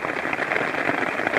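Torrential rain falling steadily in woods at a wild camp with a hammock and tarp, a loud dense hiss of drops drumming on surfaces with no pause.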